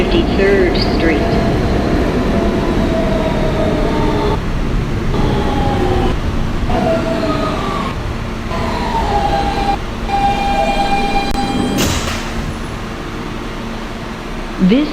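An R local subway train, a Kawasaki R160B-2 Siemens car, runs loud and continuous between stations, its rumble broken by brief dips and pitched motor whines that glide and settle, with a sharp burst near the end.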